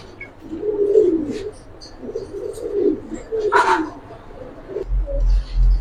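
Pigeons coo in soft, repeated rolling phrases at a pigeon farm, fairly close, with a few brief sharper calls and handling noise near the end.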